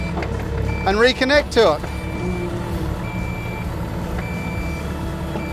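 Cat mini excavator idling while its bucket is spun around, a steady diesel engine rumble with a repeating electronic alarm beep, and someone talking briefly near the start.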